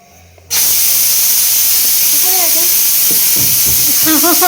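A pressure cooker vents in a home kitchen with a sudden loud, steady hiss of steam that starts half a second in and holds to the end. Faint voices are heard beneath it.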